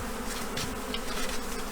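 A swarm of honey bees being moved into a new hive gives off a steady, dense buzzing hum that stays at an even level throughout, with no voices.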